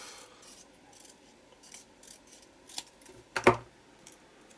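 Scissors snipping paper during art journaling: a few soft, quiet cuts and rustles spread out over several seconds, ending in one louder crisp snip.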